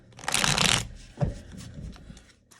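Rapid riffle of tarot cards being shuffled, a dense papery burst lasting under a second, followed by a soft tap and quieter handling.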